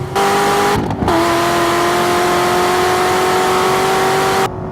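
A Corvette ZR1 or Porsche 911 Turbo engine roars at full throttle through a last corner, pitch climbing steadily, briefly dipping at a gear change, then holding a loud, sustained howl.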